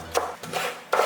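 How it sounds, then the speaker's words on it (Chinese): A kitchen knife chops fresh ginger into small bits on a cutting board, giving three short, close, dry strokes in just over a second. "再来切点姜米"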